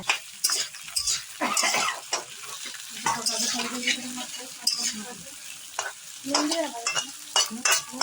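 Chicken kosha sizzling and frying in a pan while being stirred with a spatula, giving irregular scraping and clattering strokes over a steady sizzle, heard up close.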